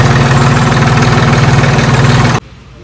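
A tractor engine idling close by with a steady, rhythmic low chugging throb that cuts off abruptly near the end.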